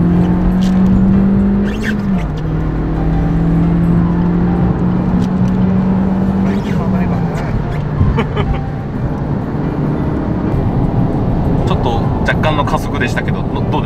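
A Suzuki Swift Sport ZC33S fitted with a high-flow turbo cruises on a highway, its engine drone and road roar filling the cabin steadily while people talk inside.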